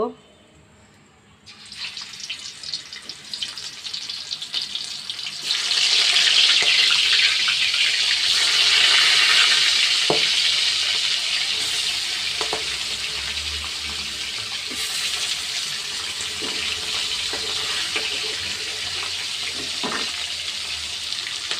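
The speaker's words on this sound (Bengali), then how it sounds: "আমার তেল গরম হয়ে গেছে, আমি মাছ দিয়ে দিব" A loud, steady sizzle of hilsa fish frying in hot oil bursts in a few seconds along and continues without pause, with a few faint clinks over it.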